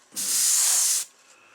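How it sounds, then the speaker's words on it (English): An airbrush or spray gun sprays paint onto a bass fish taxidermy mount, a single steady hiss close by lasting about a second, with no talk over it. "Then we're going to come out here and we're going to spray the gill covers."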